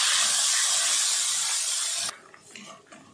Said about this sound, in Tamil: இப்போ இதில் 2 கட்டு நாட்டு கொத்தமல்லி சேர்த்துடலாம். அது கூடவே கொஞ்சமாக புளி சேர்த்துக்கலாம். சேர்த்துட்டு நல்லா வதக்கிடலாம்.